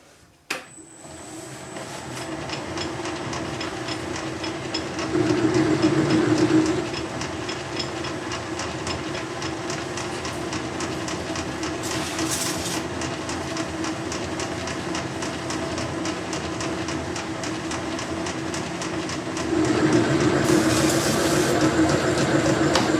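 A metal lathe bores a part under power feed, giving a steady close mechanical hum with hissing cutting noise and faint tonal whine, swelling louder for a couple of seconds around the middle and again near the end.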